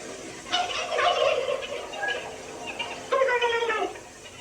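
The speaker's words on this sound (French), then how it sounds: "on va découvrir la nouvelle passion du héros, les dindons" Turkeys gobble in a film, two loud rapid warbling bursts, one early and one near the end, with a few quieter calls between them and little else around.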